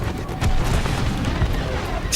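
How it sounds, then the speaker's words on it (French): Explosions rumble through a Star Wars Battlefront X-Wing space battle in VR, a loud, dense roar of overlapping booms that never lets up. "Tiens, je me prends bien les explosions."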